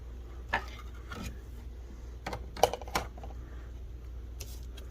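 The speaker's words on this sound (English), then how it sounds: "I'm going to use my Traxxas scissors right here, the curved ones" Curved Traxxas scissors snipping out a homemade drag wing, a handful of sharp close clicks and snips spread unevenly over a quiet steady background, no voices.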